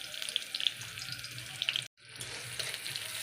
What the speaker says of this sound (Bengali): তো আমি আস্তে আস্তে পেঁয়াজগুলো ছেড়ে দিচ্ছি